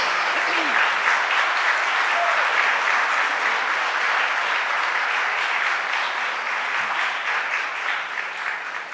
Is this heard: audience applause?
yes